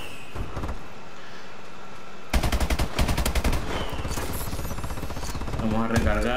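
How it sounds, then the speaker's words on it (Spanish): Rapid gunfire in Call of Duty: Advanced Warfare, a quiet stretch of game ambience giving way to a loud burst of closely spaced automatic shots followed by more scattered firing and mechanical clatter. "Unos tres disparos, creo que está muerto."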